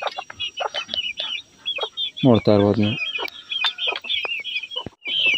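Country chickens cluck and squawk in quick, close bursts while they are fed rice and ragi grits, with one louder drawn-out call in the middle and someone speaking briefly.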